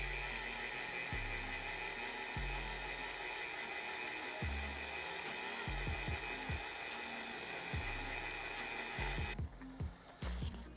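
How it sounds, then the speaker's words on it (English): Dremel rotary tool on low speed polishing plastic parts of a vintage Redline replica bicycle, a continuous high-pitched whir with repeated bumps and pitch dips as it presses the surface, cutting off near the end. "Gonna use the Dremel."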